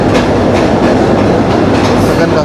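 The Hazara Express rolls along the rails in Pakistan with a loud, steady rumbling roar and a rapid clickety-clack from the wheels, filling the clip closely from start to finish.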